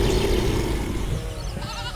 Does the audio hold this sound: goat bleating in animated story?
yes